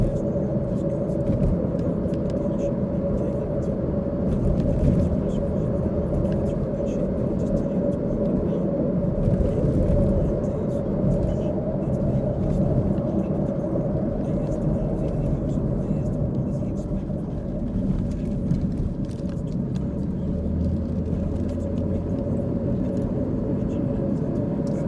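Car driving along a road on the south side of Karns in Knox County, heading toward Fountain City, with a steady broadband road and engine rumble throughout and no talk.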